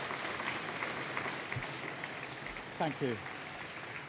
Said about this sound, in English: Let's get a warm round of applause there.